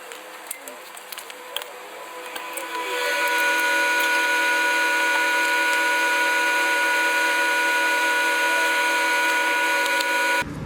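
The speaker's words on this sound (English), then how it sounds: "You want to take your socket wrench and then you want to take off the rest of the filter." A socket wrench works loose the oil filter on a 2017 Toyota RAV4, starting with faint clicks and scraping, then settling into a steady, loud, high-pitched motor whine that holds until the end.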